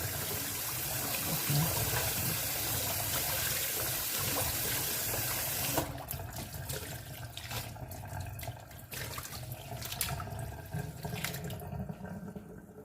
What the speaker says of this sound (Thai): ปล่อยน้ำไหลผ่านแบบนี้เลยนะคะเพื่อนๆค่ะ